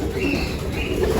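Pigeon hens coo softly and continuously in a loft aviary, a close, low burbling with light background bird chatter.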